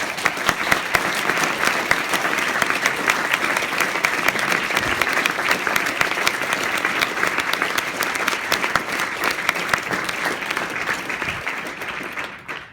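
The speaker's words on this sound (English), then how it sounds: "I'd like you to join me in applause for the faculty." A full audience at a graduate school ceremony claps steadily for the faculty, a dense, even wash of applause that holds at a constant level for over twelve seconds before tapering at the very end.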